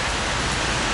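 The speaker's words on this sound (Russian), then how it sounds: "И начался дождь." Heavy rain pours down during a trip in Phuket, Thailand, as a dense, loud, unbroken hiss with no voices.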